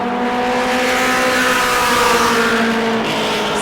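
Race car at speed on the New Smyrna track during a Red Eye Mod Mini qualifying lap, a loud sustained engine drone with steady tonal harmonics that shifts pitch as the car passes near, under no talk.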